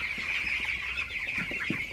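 Broiler chickens, 17 days old, cluck softly and repeatedly over a constant high-pitched hum, the short calls scattered irregularly and fairly close.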